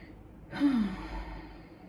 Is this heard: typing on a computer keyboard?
no